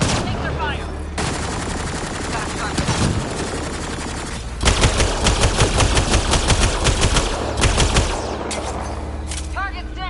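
Heavy gunfire in Mass Effect Andromeda: dense rapid automatic bursts and single shots, loud and close, broken by short pauses, with in-game voices talking over parts of the firefight.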